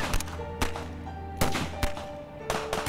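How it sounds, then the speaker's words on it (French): Scattered gunshots ring out at dawn in an adventure story set during a journey around the world, several sharp cracks spaced irregularly over a low, continuous ambient bed, with no voices. "des coups de feu éclatent"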